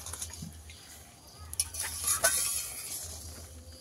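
Fried potatoes get stirred into a frying egg curry, with soft scraping of a spoon against the pan, faint sizzling and a few light metallic clinks, quiet and close.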